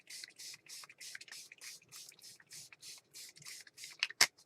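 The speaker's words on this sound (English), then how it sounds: "So I'm going to spray a little bit with the blue, or excuse me, the green." Bursts of green ink mist sprayed onto scrapbook paper, roughly a dozen short evenly spaced hissing puffs in a quick rhythm, fairly quiet, ending with a sharp louder click.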